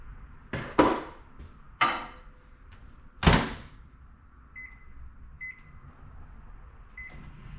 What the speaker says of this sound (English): Then I'm gonna put it in the microwave for 15 seconds.